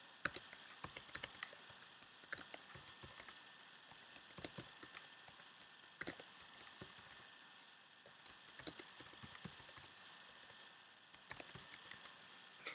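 Fingers type steadily on a computer keyboard, a quiet, irregular stream of close clicking keystrokes with brief pauses, and no voices.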